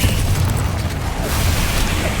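A Confringo spell explosion in the video game Hogwarts Legacy, a loud sustained booming blast with rumbling fiery bursts filling the whole moment.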